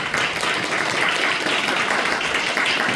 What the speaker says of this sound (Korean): 우리 박수로 한번 환영해 보실까요?